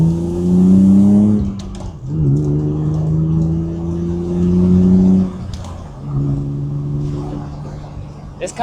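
A BMW E36 engine revs up through the gears, rising in pitch, dropping at each shift, then climbing again, loud and close with a buzzy exhaust note.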